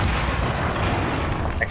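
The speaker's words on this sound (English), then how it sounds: "Explosion." A dense, rumbling explosion blast fills the moment in the video game Modern Warfare, loud and sustained with no clear voices over it.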